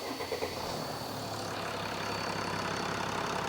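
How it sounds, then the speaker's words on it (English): Mercedes W211 320cdi with an OM648 diesel engine idling, a steady, even rumble with a faint rattling texture, continuous and fairly close. "I'm going to start the engine up."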